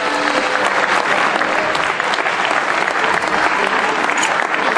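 Sustained applause fills the hall at a ceremony honouring 280 youth champions, dense steady clapping from a large crowd that holds loud and even throughout, with faint voices mixed underneath.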